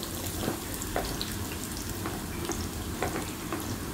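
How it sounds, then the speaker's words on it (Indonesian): Onion sautéing in hot oil in a pan, a steady soft sizzle with faint crackles and light stirring clicks, heard alone at low level. "siapkan minyak untuk menumis bawang bombay dulu ya"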